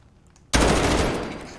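Cold War M4 rifle from a Fallout 4 mod fires in an indoor video game setting: one sudden, very loud burst that stays sustained and roaring, slowly fading over a second, after near silence.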